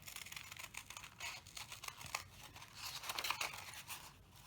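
Scissors snip paper hearts out of folded paper for a pop-up Mother's Day thank-you card, a quiet, close run of irregular crisp cuts and rustles with no voices.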